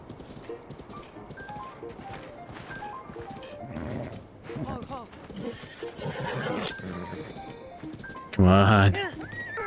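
Horses in Breath of the Wild whinny and clop along under steady speech from a player, with one loud neigh near the end.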